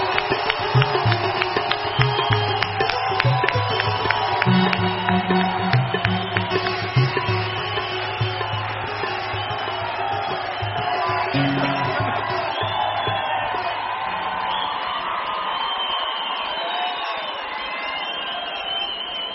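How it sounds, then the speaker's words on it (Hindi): Large crowd at a spiritual congregation gathering, standing and clapping in loud sustained applause, with cheering and whoops mixed into a dense continuous roar. "सभी खड़े होकर तालियां बजाएं।"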